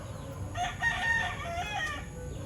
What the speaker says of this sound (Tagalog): Pinagbabala ka ng manok.